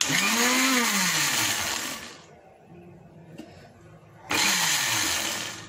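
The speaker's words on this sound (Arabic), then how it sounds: "كنطحنو حنا كنزيدو الزيت بشويه" A kitchen blender grinds loudly while oil is trickled in slowly, the motor whine rising and falling, dropping to a quieter lull midway before surging back to full power.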